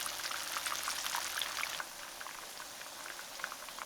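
Zucchini rolls fry in hot oil with a dense, steady crackling sizzle that eases slightly partway through, close and continuous with no talking.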